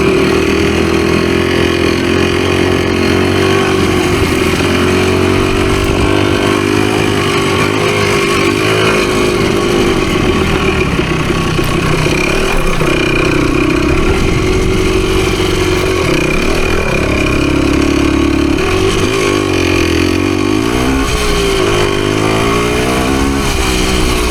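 A Husqvarna-style PE250 dirt bike engine runs continuously on a trail at fairly low revs, a steady loud buzzing drone with shifting pitch as the throttle eases and picks up, close by with no speech.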